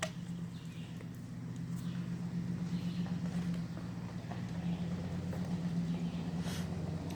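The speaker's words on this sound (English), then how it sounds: "Truck driving by." A truck passes by a quiet park campsite, its steady low engine rumble holding close and even throughout with no voices.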